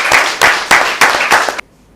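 An audience at an event in Cotonou claps in five loud, rhythmic group bursts of acclamation that stop abruptly, leaving near silence.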